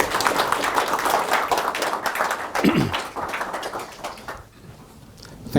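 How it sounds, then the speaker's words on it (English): A lecture audience applauds a professor after his introduction: a dense wash of many hands clapping at moderate distance, thinning and fading out after a few seconds, with no voices. "please give a big round of applause to Professor Ambikairajah"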